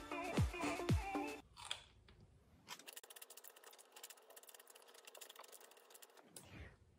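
Crunchy bites into a cheap Always Save dill pickle, two sharp crisp snaps up close followed by a steady stretch of moist chewing and crunching, with no talking.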